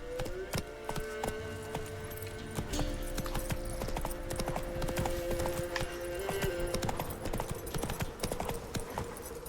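Horse hooves clip-clopping in The Witcher 3 video game, a steady rhythmic run of close hoof beats with a brief whinny and some faint game voices underneath.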